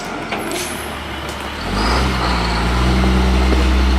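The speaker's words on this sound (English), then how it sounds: "This is truck number 5 of the day." A rock-hauling dump truck pulls in with a deep diesel rumble that swells and grows louder as it nears, with a sharp air-brake hiss early on and a heavy low drone building toward the end.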